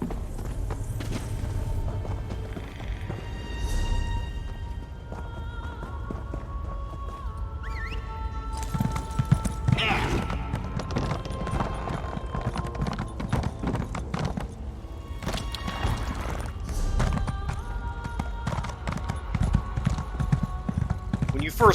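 Steady clip-clop of horse hooves at a slow walking pace in The Elder Scrolls Online, with a horse whinny and game music or ambience in the background.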